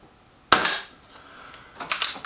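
A single shot from a regulated BSA R10 Gen2 air rifle, a sharp close crack with a short decaying tail, followed by a fainter metallic clatter about a second and a half later.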